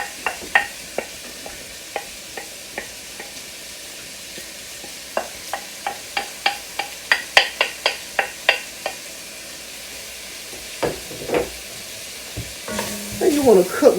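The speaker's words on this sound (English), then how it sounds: "So the next thing I'm going to add is those diced onions." Diced onions frying in a pot for bean soup, a steady low sizzle under repeated spoon scrapes and taps against the pot, building into a quick burst of stirring.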